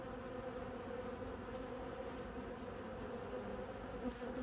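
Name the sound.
bees and wasps buzzing at hive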